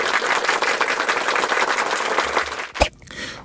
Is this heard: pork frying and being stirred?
no